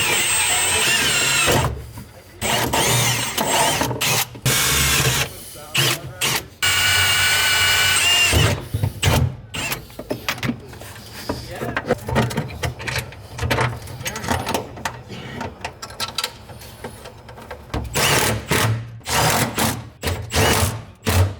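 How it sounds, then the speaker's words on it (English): Power drill boring holes for rivnuts to mount an electric power steering pump in an LS-swapped Miata MX5, several loud whirring bursts of a few seconds each, separated by short pauses and shorter trigger taps. "next step, drilling holes, riv nuts, getting the pump mounted firmly"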